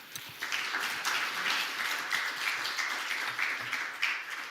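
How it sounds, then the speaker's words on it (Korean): A church congregation applauds to welcome a pastor to the pulpit, with dense, steady clapping from a sizable crowd heard from a distance in a reverberant hall for several seconds. "우리 박수로 다 같이 환영하겠습니다."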